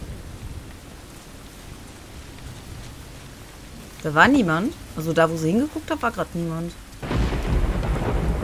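Rain and thunder from the video game Uncharted: The Lost Legacy form a steady wash with a low rumble, under a person talking in German.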